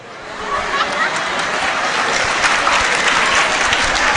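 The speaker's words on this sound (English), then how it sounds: "you are clapping" A freshers' orientation audience claps steadily on a university campus, dense and sustained applause that swells slightly and fills the space for several seconds.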